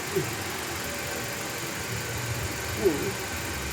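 A Toyota Avanza with an overheating engine idles steadily, a low, faint, even hum with a couple of brief clicks and no revving.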